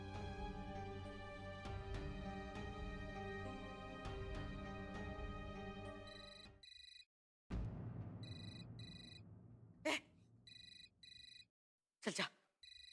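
A telephone rings on a repeated call: soft background music fades out, then short, regular double-beep ring bursts repeat several times, interrupted by brief loud clicks.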